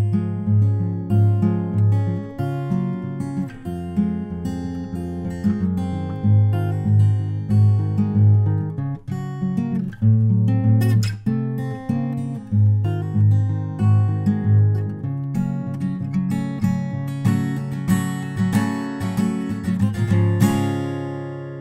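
Fingerpicked acoustic guitar plays a Travis-picking pattern, steady alternating bass under plucked treble notes, a continuous rolling pattern, close and clear.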